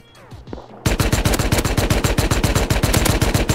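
Rapid, evenly spaced shots from a semi-automatic rifle in the survival game Rust, about twenty loud, sharp cracks in a fast steady rhythm after a brief quieter moment.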